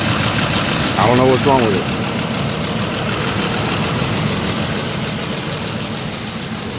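A 2005 Lincoln Navigator engine idles with a steady, close, low rumble, while someone speaks briefly over it.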